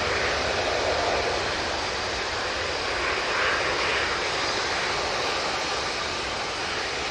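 A jet airliner at Manchester Airport roars with a steady broadband rush, loud and sustained throughout, with no talk over it.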